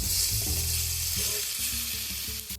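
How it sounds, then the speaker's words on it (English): Minced garlic sautéing with onion in a pan makes a loud, continuous close-up sizzle, with low clattering stir sounds from a utensil beneath it and no voices. "After 2 minutes, add in your minced garlic. Saute for 1 minute."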